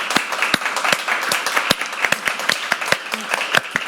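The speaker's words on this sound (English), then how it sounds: "I would like to ask for a big applause for our panel." An audience claps for a conference panel in a moderate, fairly sparse round of applause, individual claps distinct and steady across the stretch without voices.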